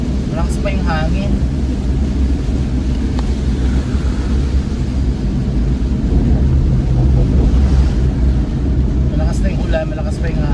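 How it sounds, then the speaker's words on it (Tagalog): Heavy storm rain and strong gusting wind heard from inside a car during a typhoon on a trip to Tagaytay, a steady dense wash and rumble throughout, with people talking over it. "Malakas na yung ulan, malakas pa yung hangin."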